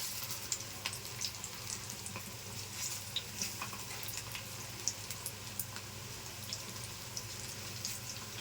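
Potato pakodi frying in peanut oil, a steady close crackle and sizzle with scattered pops and spits continuing throughout, no voices.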